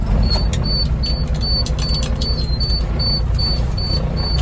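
A truck engine runs at a loud, even idle after a safety start for a pre-trip inspection, while a high beep repeats about every 0.4 seconds. No one speaks.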